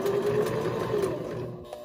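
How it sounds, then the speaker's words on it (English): A sewing machine stitches slowly and steadily around the curves of a fabric monkey soft toy, its even mechanical hum and rhythmic needle clatter close and continuous, slowing slightly near the end. "Slow is key when you are sewing curves."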